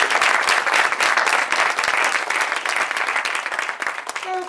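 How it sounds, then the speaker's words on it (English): An audience at a community address gives the NAACP president another round of applause, producing thick, steady clapping from many hands at full strength throughout, with no clear voices. "Give her another round of applause."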